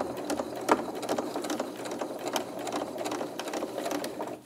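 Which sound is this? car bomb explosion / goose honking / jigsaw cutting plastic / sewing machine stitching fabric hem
sewing machine stitching fabric hem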